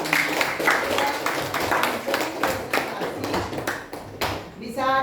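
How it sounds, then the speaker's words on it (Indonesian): A classroom group claps together, a close, ragged burst of individual hand claps that thins out toward the end, with voices talking over it. "Ya, tepuk tangan dulu."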